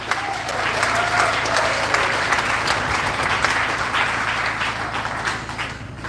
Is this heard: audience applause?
yes